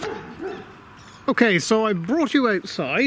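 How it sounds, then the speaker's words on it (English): Dogs outdoors, just fed, bark in loud, close, rapid bursts with some yips, starting after a person's brief spoken remark and continuing to the end. "you must excuse the dogs barking now and again"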